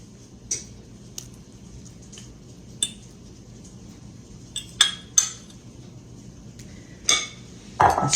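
Spoon clinking against a bowl while onion pie filling and cheese are stirred together, a few sparse scraping clinks and taps spread over a quiet background, fairly close.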